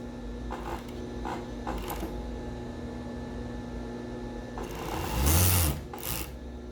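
A sewing machine stitches a seam onto another seam on trousers, running as a steady close hum with soft rhythmic ticking, then a louder, brief surge near the end as the motor speeds up.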